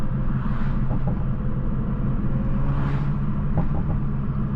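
Low engine rumble from a 500-horsepower Toyota Supra or Nissan GT-R on a night city drive, a steady deep drone with faint swells, heard from inside the car.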